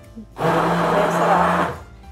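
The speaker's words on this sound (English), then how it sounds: "now we're going to hit it with the immersion blender just to really mix it up" An immersion blender mixes sweet potato pie filling, switching on sharply into a loud, steady motorized whir that holds for more than a second before cutting off into quiet.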